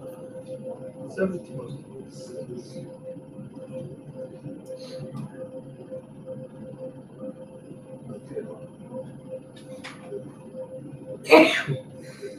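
A single sharp sneeze bursts out near the end, close and loud, after a stretch of quiet conversation against a low background hum.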